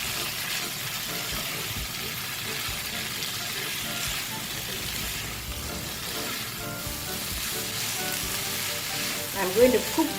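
Snake gourd and jackfruit seed thoran stir-frying in a pan for a Kerala vegetable dish, with a steady close sizzle and crackle throughout, occasional stirring scrapes, and a brief louder clatter near the end.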